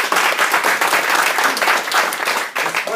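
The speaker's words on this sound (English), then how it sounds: "just help me give them a round of applause real quick." Lively audience applause with a crowd clapping continuously and loudly for about three seconds, dense and close, with no voices over it.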